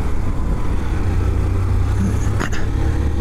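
A hearse driving past in traffic, heard from a Honda CG 160 motorcycle on the road as a steady close engine and road rumble with a brief whoosh as the vehicle goes by.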